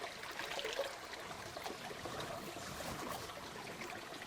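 Very quiet creek water flowing and trickling in a forest at Sugarloaf Ridge State Park, a soft, steady babble with no voices.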